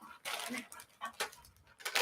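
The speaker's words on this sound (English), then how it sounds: "with the other dog that is barking right now" A dog in another room makes faint, distant barks and whimpers in short irregular bursts, muffled and quiet.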